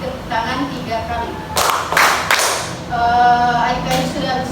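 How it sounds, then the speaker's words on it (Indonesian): Children clap hands in a colour-counting game during a group counselling session: a quick burst of about three sharp, loud claps in the middle, with voices talking before and after. "adik-adik tepuk tangan 3 kali"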